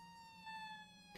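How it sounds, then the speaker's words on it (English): A fire engine siren in a video game: a faint, steady electronic wail that holds a high pitched tone in the background, with a slight rise partway through. "Yeah, that's the fire engine right there."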